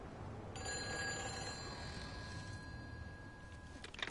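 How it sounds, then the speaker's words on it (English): A telephone rings in Everybody's Gone to the Rapture, a clear electronic trilling tone repeating over a quiet ambient room for several seconds before cutting off. "Another phone ringing."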